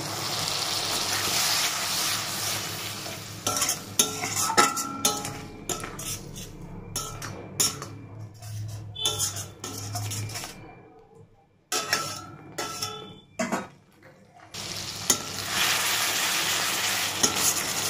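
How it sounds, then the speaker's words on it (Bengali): Spice paste being fried and stirred in a pan with a splash of water, for an egg and small potato curry: bursts of sizzling with scraping spatula strokes and light clatter, broken by brief quiet pauses, then a fresh hiss. "এবার আমি সামান্য একটু জল দিয়ে মশলাটাকে আরেকবার কষিয়ে নেব"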